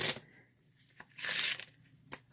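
A deck of playing cards being shuffled during an impromptu card trick, with a few quick riffling bursts and soft handling rustles, close and fairly quiet.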